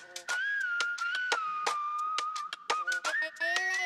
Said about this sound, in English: Okay, little whistle action.